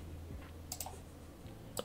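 A computer mouse clicks twice in quick succession, a short, close, crisp right-click pair with another soft click following, in an otherwise quiet room.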